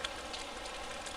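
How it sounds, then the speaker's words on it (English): Soft rain falls on pavement, grass and trees as a quiet, even hiss of fine drops, faint and steady throughout the short stretch. "Soft rain sounds relaxing, very pleasing, tender and romantic."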